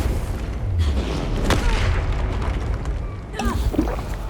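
A Confringo fire spell explodes in Hogwarts Legacy, a deep booming blast followed by a rumbling tail and further crackling game effects, loud and close.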